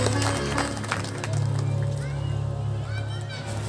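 Applause from a crowd welcoming guests at a Bhagavat Katha religious gathering in a Hanuman temple, a steady patter of many hands clapping throughout, with voices and instrumental sound underneath.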